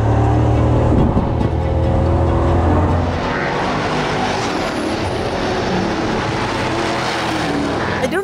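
EuroNASCAR stock car racing at Brands Hatch, its engine roaring loud and close at full throttle before easing into a steadier, slightly softer drone as it pulls away.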